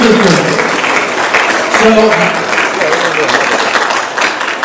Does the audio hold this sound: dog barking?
no